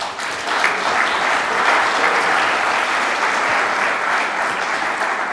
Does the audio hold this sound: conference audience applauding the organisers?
yes